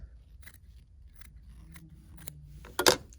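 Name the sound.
scissors trimming fabric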